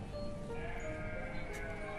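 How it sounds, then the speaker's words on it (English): Sheep in the Banished village-building game bleat in a steady chorus, layered tonal calls held over a continuous farm-animal background with no gaps of silence. "15 sheep."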